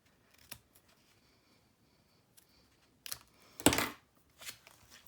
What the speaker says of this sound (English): Just going to snip that end off there.